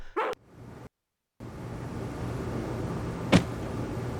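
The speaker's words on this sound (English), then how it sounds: "Once he gets barking, a good piece of meat is the only way to shut him up." A dog in the 1996 PC video game Harvester gives two short, sharp barks, one at the start and one near the end, separated by a brief silence and a faint steady hum.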